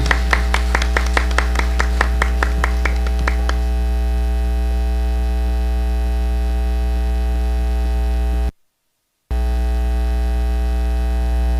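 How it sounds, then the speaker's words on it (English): At an Indian Arrival Day celebration, a few sparse claps ring out over the first few seconds and then fade, leaving a steady loud electrical hum that continues alone, broken by one brief dropout. "let's give Madam R.T. Janki a loud round of applause"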